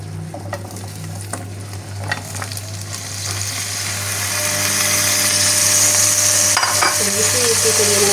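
Eggplant rounds fry in olive oil with a steady, close sizzle that grows louder and fuller over several seconds, with a few light clinks of utensils and no talk.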